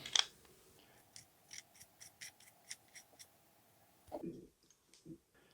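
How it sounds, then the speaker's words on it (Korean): Faint rapid plastic clicks and ratcheting as a suppressor is twisted onto a one-third scale toy SIG MCX Rattler gun, ending with a couple of soft knocks. "그리고 요거 소음기를 끼워줍니다."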